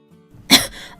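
A single sharp cough bursts out after a sip of peach fruit liquor, one short loud harsh burst preceded by a faint intake and trailing off quickly, with no voices.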